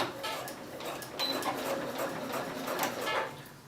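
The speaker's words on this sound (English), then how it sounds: "I'm going to top stitch this along here, putting those three parts together." A sewing machine top stitching three fabric pieces of a trouser front pocket together, a steady close mechanical whir running throughout, with no talk.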